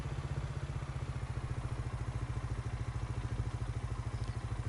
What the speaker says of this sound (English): as you can hear the engine, it's just spinning it